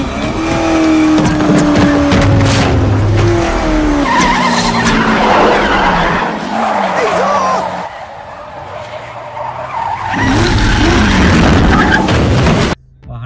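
A car with brake fade skids hard, tyres squealing loudly and close with engine noise and rumbling, sustained over several seconds with a brief lull before the screech returns; a voice is heard briefly.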